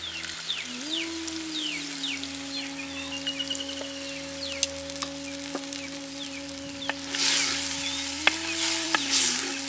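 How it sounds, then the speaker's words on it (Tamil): Tamarind water poured into a pan of frying ivy gourd: a steady, close sizzle with a low tonal hum underneath, swelling into a louder hiss toward the end as the liquid hits the hot pan. "இப்போ நம்ம எடுத்துக்கிட்ட புளியை கரைச்சி ஊத்திடலாம்."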